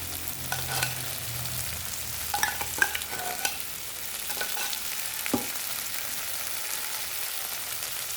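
Canned corned beef being sautéed with okra in a home pan, a steady soft sizzle with scattered stirring scrapes and clicks throughout, no talking.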